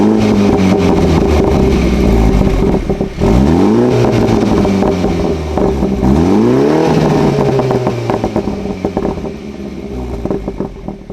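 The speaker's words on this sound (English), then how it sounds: "So here's a short clip of the burbles," A deep exhaust on a tuned BMW 330i (F30) rumbles steadily, with two rising revs around the middle, then pops and crackles as the engine settles back down, loud and close.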